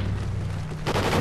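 Gunfire in Call of Duty: Ghosts: a low, steady rumble of combat, then a sudden loud burst of rapid shots near the end, close and dense, with no talking.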